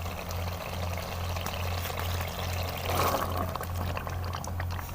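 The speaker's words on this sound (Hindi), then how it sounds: "अब हम इसके अंदर डाल देते हैं चने।" Chickpeas poured into a pan of oil and fried spices for white chana curry, a steady rushing pour with sizzling that swells briefly midway, close and fairly loud with no talking.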